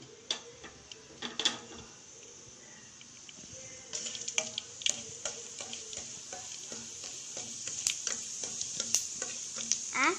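Mustard seeds and jeera crackle and pop in hot coconut oil in a pan, sharp scattered spits over a continuous sizzle, growing busier toward the end.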